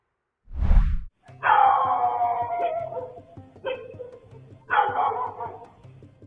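Dogs barking into the distance at night, a few loud, drawn-out barks in separate bursts, with a short thump before the first bark.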